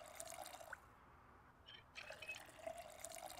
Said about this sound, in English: Let's fill up this kettle